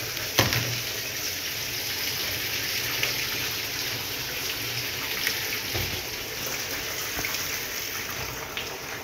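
Water pours steadily into a washing machine as it fills, a continuous rushing gush with occasional small knocks and splashes, close and fairly loud.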